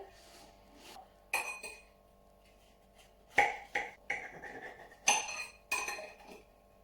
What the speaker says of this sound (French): On va le couper pour voir ce que ça donne.